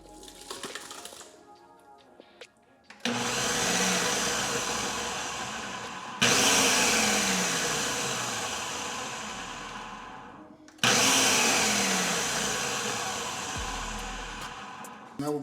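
A food processor purees mushroom soup in three long bursts, each starting abruptly with a loud whirring roar that slowly eases before cutting off, with short pauses between runs.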